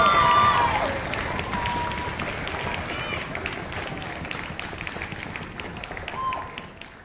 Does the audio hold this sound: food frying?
no